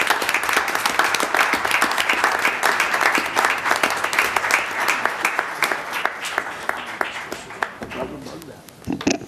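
Applause fills a city council meeting room after a vote, a thick burst of clapping that slowly thins and fades toward the end, with some talk mixed in under the claps.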